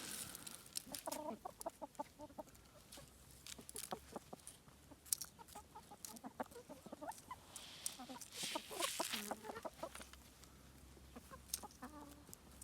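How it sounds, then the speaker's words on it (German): Chickens cluck softly and continuously at close range while eating new wheat, with scattered pecking and scratching sounds and faint rustling throughout. "Und die Hühner verköstigen den neuen Weizen."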